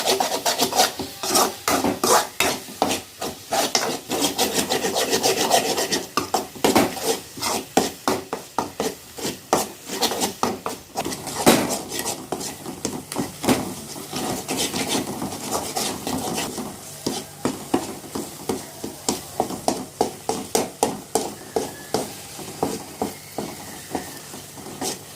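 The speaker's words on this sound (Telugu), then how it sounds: "ఇది కలుపుకుంటూ ఉండాలి, లేకుంటే అడుగు మాడుతుంది." Gongura and cucumber chutney stirred in a pot, a steady rasping scrape of the spoon against the pot that runs throughout, with rhythmic strokes growing more distinct and evenly spaced toward the end; no one speaks.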